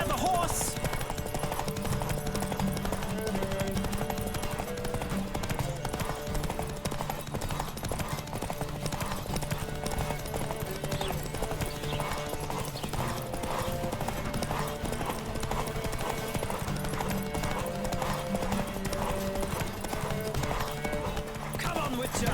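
A horse gallops hard in a Witcher video game race, its fast hoofbeats drumming steadily and close throughout, layered over game music, with snatches of voices calling out over the pounding rhythm.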